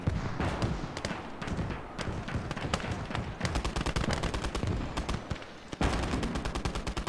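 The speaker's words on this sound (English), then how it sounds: "call a mortar strike down on that" Gunfire and a mortar strike in the Conquest Enhanced strategy game: rapid rattling bursts and sharp cracks, dense and continuous, with heavier thuds and a loud impact near the end.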